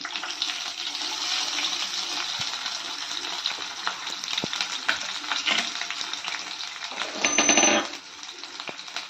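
Chopped onions frying in hot oil with dried red chillies for Andhra tomato tamarind rasam, a steady close sizzle with stirring clinks and a louder hiss near the end.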